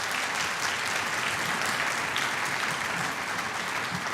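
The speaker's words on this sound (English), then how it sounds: "Let's give her a round of applause." Audience at a school winter band concert applauding the middle school choral director, sustained, even clapping from a full room with no break.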